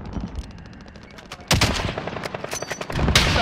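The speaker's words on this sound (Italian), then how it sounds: "Stanno sparando." Gunfire in Call of Duty: Modern Warfare: rapid automatic bursts crackle over a low rumble, a quieter volley first and then louder, closer shots, with occasional sharp bangs cutting through.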